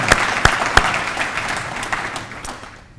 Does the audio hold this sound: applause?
yes